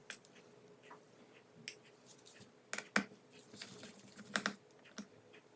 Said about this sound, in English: Next, we remove the rest of the screws around the bottom plate.